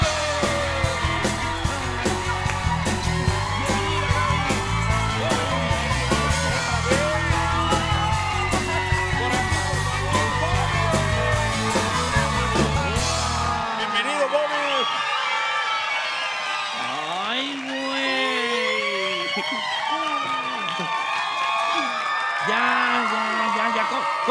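A studio audience at a TV interview screams and cheers loudly and without a break, first as a dense roar of crowd noise, then as thinner high shrieks and whoops from many voices.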